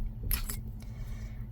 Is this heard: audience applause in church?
no